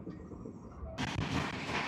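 Bikaner–Sealdah Duronto Express train running at about 130 km/h, a dense continuous rumble and rush of wheels and wind that grows suddenly louder and brighter halfway through.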